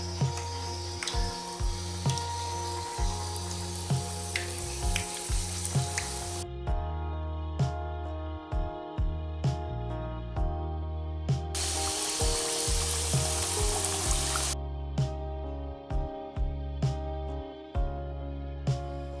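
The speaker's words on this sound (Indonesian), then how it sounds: "Goreng dengan minyak panas, tapi dengan penggunaan api sedang." Chocolate banana spring rolls deep-frying in hot oil over medium heat, a continuous close bubbling sizzle that swells and thins across several cuts, with occasional crackles and light pops.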